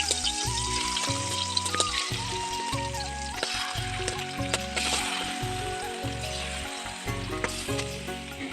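Several fish fry all at once in a wok, giving a steady, close hiss of sizzling oil under a background of rhythmic music.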